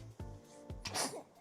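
A person sneezes amid casual chatter during a livestream, with a couple of sharp bursts close to the mic followed by a noisy exhale.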